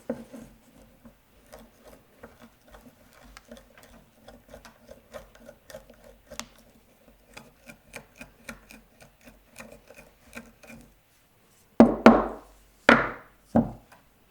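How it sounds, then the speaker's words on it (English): A knife tip rotated and rocked into a wooden bow drill handhold gives a series of soft, dry scraping and ticking strokes up close, then three louder, longer grinding bursts near the end. "I'm just kind of rotating and rocking that knife tip around."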